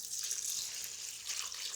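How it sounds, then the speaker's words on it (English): About a litre of cold water pours into a pot of lentils for lamb dhansak, a steady close splashing rush with no talking. "I'm going to add approximately about a litre of cold water,"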